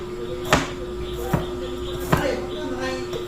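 Knife chopping garlic and onion on a board, three sharp separate chops spaced under a steady background hum, close and fairly loud.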